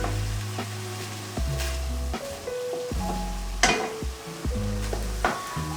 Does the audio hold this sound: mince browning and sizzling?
yes